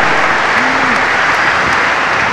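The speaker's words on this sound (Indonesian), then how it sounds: "Kita beri tepuk tangan yang meriah." An audience at a regional community empowerment convention breaks into loud, dense applause that runs throughout, close and continuous with a faint murmur of voices beneath.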